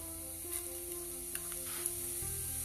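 Urad dal and cumin seeds sizzle steadily in hot oil in a pan, a continuous close frying hiss with faint crackles and no talking.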